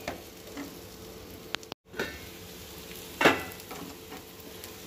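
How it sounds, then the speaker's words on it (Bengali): Bitter gourd frying in a pan, a faint, soft sizzle with a few sharp stirring clicks and scrapes of a utensil, briefly cut silent near the middle. "উচ্ছে ভাজাটাও হয়ে গেছে"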